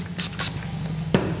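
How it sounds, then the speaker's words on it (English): Lens cleaner spritzes onto eyeglass lenses in two quick bursts near the start and one more about a second later, short close hissing puffs over a quiet background. "just take your lens cleaner, spray your lenses"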